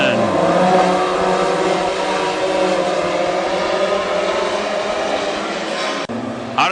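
WISSOTA Mod Four race cars roar around the Granite City Speedway track in a heat race, engines droning loud and steady as the pack passes, with a brief dip near the end.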